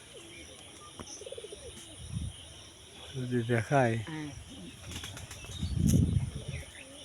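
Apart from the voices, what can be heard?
pigeons cooing and flapping wings at a pond-side farm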